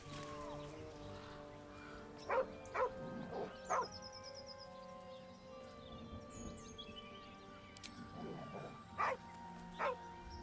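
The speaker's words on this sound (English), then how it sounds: "The dog lowers his hackles, his head tilted inquisitively" A dog in the fantasy game Baldur's Gate 3 gives several short, sharp barks in separate bursts over quiet ambient music, fairly close.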